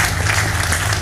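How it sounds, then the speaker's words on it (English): Steady applause from the audience at a Nakuru County gubernatorial candidates debate, a dense, even wash of clapping held at a constant level with no break. "Let's clap for Wakazi."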